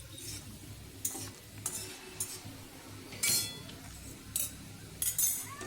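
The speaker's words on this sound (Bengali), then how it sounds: "দেখো, এবার ডালটা আমি দিয়ে দিচ্ছি।" Lentils (dal) go into a pan of frying garlic during home cooking of a Bengali vegetarian meal. A spoon stirs with sharp intermittent clinks and scrapes over a low sizzle.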